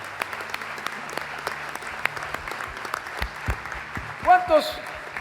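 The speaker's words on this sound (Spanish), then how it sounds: "demos ese aplauso para el Señor" Scattered applause from a gathered church congregation rises over a roomy background, with a few louder voices calling out near the end.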